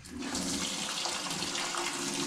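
Water rushes out of a household water pipe as its pressure is released after the supply is shut off, a loud, steady, close gush lasting a couple of seconds.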